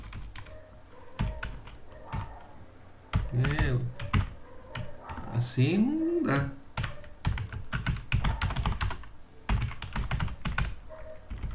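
Fingers tap quickly on a computer keyboard in irregular bursts, fairly close, while a person speaks briefly over the typing.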